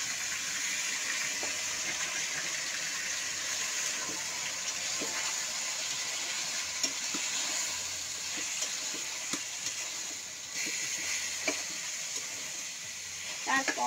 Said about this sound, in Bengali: এবার আমি মাংসটা আস্তে আস্তে ঢেলে দিই